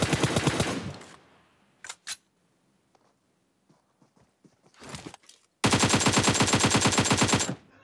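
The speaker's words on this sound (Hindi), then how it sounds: "कहीं से रैंडमली मेरे ऊपर फायर होने लगता है" Automatic gunfire from the PUBG Mobile battle royale game crackles in a rapid burst, then scattered single shots and brief sounds follow before a second long, loud sustained volley.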